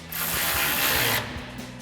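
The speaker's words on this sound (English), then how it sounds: "we'll go ahead and tighten this down with our 14 mil socket on our ratchet" A ratchet turns a 14 mm socket to tighten an exhaust hanger bolt during installation of a Flowmaster American Thunder dual exhaust on a Chevrolet Silverado 2500. It gives one close, steady run of rapid clicking for about a second, then quieter shop ambience.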